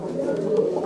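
A home-bred pigeon lets out one brief, close cooing phrase, a low warbling tone rising and falling before it fades.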